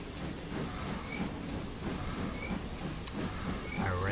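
Steam locomotive in Train Simulator 2017 rumbling steadily as it runs, a loud continuous low mechanical roar with rail clatter, close and sustained throughout.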